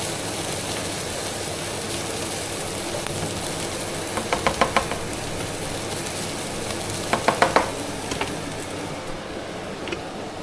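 Garlic frying in a pan until toasty: a steady, loud sizzle throughout, with a few brief clusters of clinking stir or utensil knocks against the pan, and no talking.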